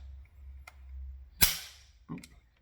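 Mechanical snap of a Mauser bolt-action rifle, comparing an 1893 Spanish and an 1895 Chilean model, as the trigger is pulled and the cocking piece goes forward, followed by the bolt opening: a sharp close click, then a softer metallic clack, alone in quiet.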